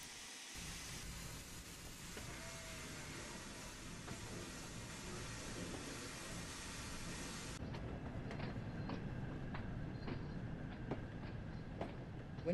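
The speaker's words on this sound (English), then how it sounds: "When Henry arrived at the next station, his driver and fireman uncoupled him from the train" A steam engine train arrives at a station with a broad rumbling roll that shifts partway through into quieter rail noise with scattered clanks and knocks, fairly soft throughout.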